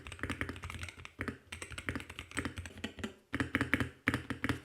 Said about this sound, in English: Here is what this gaming keyboard actually sounds like.